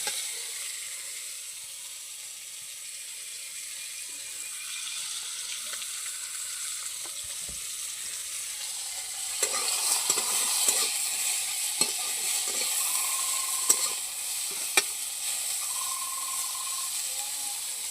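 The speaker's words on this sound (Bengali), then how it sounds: "উস্তেটা একটু ভাজা ভাজা হলে তুলে নেব" Bitter gourd slices fry in hot oil in a pan, giving a steady sizzling hiss that grows louder midway, with occasional stirring scrapes and clinks.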